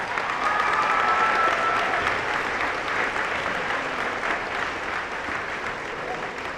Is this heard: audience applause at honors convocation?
yes